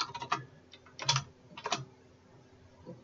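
Typing on a computer keyboard in short, quick bursts of close, crisp key clicks separated by brief pauses, fairly faint, with no talk.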